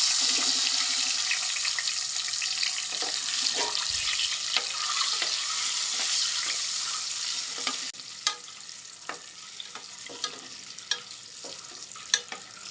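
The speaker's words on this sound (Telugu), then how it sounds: "ఇందులో పసుపు వేసుకుందాం. కొంచెం ఎగ్స్ వేయించుకుందాం." Eggs frying in a pan with turmeric as a steady, broad sizzle that runs for several seconds, joined by occasional sharp clinks and taps of a utensil against the pan later on, with no talking.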